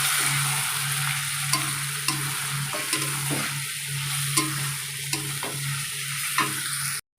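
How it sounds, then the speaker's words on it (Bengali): Meat stir-fried in a pan for kosha, a continuous close sizzle punctuated by regular spatula scrapes and taps against the pan, no voices, stopping abruptly at the end. "এবার মাংসটা কষা করছি।"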